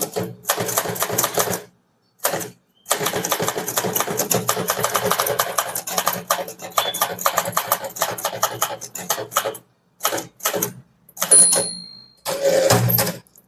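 Rapid, dense clatter of typewriter keys striking out an English letter, continuous runs of keystrokes broken by short pauses and a few carriage-return dings, close and fairly loud with no talk.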